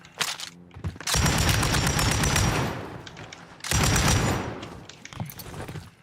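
Rapid automatic gunfire in a video game comes in two long, loud sustained bursts, separated by a short pause and framed by scattered single shots, with no voice over it.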